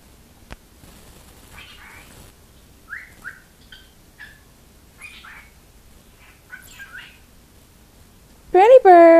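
A pet cockatiel makes scattered soft chirps and short speech-like whistled calls in a quiet room, then ends with a loud, close, rising-and-falling whistle.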